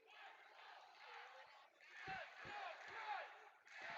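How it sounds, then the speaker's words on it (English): Basketball crowd chanting in unison in an arena during a championship final, a rhythmic roar with a few sharp beats, heard somewhat distant and faint beneath the game. "You hear the crowd. Let's go crunch chants."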